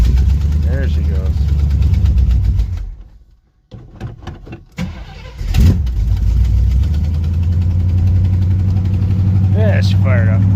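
A 1979 Camaro Z28 that has sat unused for weeks rumbles loudly at idle, cuts out briefly with some clunks, then fires back up and settles into a steady, deep idle close by. Voices speak over it.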